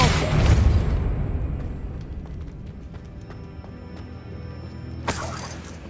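A Depulso spell blast in the video game Hogwarts Legacy, a loud booming burst at the start that fades into a long decaying rumble with faint crackles, followed by a second sharp burst near the end.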